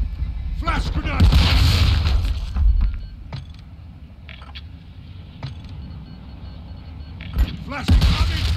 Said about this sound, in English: Flash grenade!